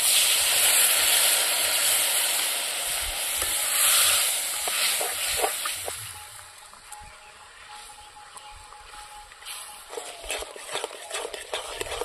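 Spice paste with onions sizzles and hisses in a pan while being stirred for a village-style latha fish curry, loud at first then settling into a softer fry with scraping stirs.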